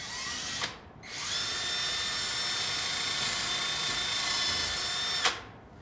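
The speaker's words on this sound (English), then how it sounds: "Using a 1/8-inch drill bit, pre-drill a 1/8-inch hole at a 45-degree angle through the center post and into the head" A drill with a 1/8-inch bit bores an angled pilot hole through a door's center post into the head: a short whine, a brief pause, then a long, steady high-pitched run that cuts off abruptly, close and alone.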